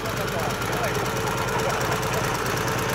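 A motorcycle with a sidecar idles close by, its engine a steady low knocking throb that holds evenly throughout, with voices talking around it.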